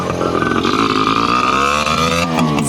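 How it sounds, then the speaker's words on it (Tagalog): A simple, fairly loud new motorcycle engine runs close by, its buzzing tone rising and falling steadily as it revs for a few seconds without any talk. "nakabili kami ng simpleng motor na medyo maingay"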